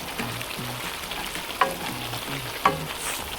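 Cauliflower being stir-fried for chop suey, a steady close sizzle with soft scraping stirs and two sharp clanks of a utensil against the pan.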